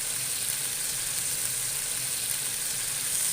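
Ground tomato puree frying in a pan for daal mash, giving a steady close hiss and sizzle that holds even and unbroken throughout, with no talk.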